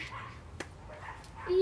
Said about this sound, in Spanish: ¿Qué andan peleando los perros de la vecina?